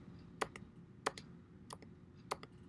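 Four crisp keystrokes on a computer keyboard, each followed by a softer release click, spaced evenly about two-thirds of a second apart in a quiet room. They come from typing a letter and pressing the tab key in a Linux terminal.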